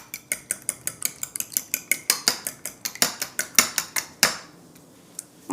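Eggs beaten in a bowl with a utensil, a quick run of about two dozen sharp clicking strikes against the bowl that slows and stops, close and clear.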